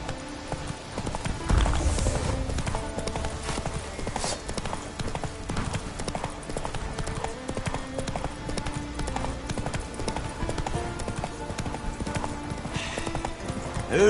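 Roach, the horse in The Witcher 3, gallops with rapid rhythmic hoofbeats under game music and ambience, with a brief whinny near the start, continuous and moderately loud throughout.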